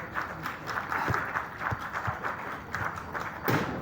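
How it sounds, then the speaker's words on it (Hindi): Audience applause at an award ceremony at an arts council hall in Karachi, a short burst of clapping from a crowd, fairly close and steady, with a few sharper individual claps. "तालियां बजाइए कि आज अवार्ड सेरेमनी में आप सबको पजीराई एक बार फिर मिल रही है।"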